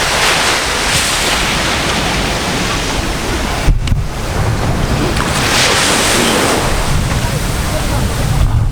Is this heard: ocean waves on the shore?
yes